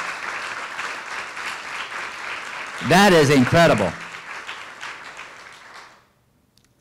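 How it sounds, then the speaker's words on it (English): Audience applause fills a school district presentation on Williamson County Schools, steady and full for about six seconds before fading out, while a speaker's voice rises over the clapping midway. "Let's give ourselves a round of applause."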